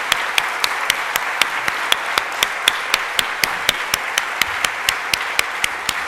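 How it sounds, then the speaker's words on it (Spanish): Steady audience applause after a lecture on Europe and the international scene, a sustained wash of many hands with a few sharper single claps standing out at a regular beat. "yo casi aquí lo voy a parar pidiendo un aplauso"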